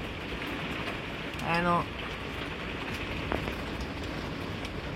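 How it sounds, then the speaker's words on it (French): Steady rain drums on the roof and windshield of a camper van parked near the port of Argelès, a dense, even patter throughout, with a brief spoken exclamation from a person inside near the start. "C'est toujours impressionnant la pluie en camping-car, mais moi j'aime bien, je trouve ça apaisant."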